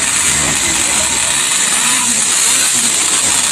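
A 1971 Rupp vintage snowmobile engine runs steadily nearby, a continuous mid-range drone that fills the moment at fairly high level, with faint voices mixed underneath.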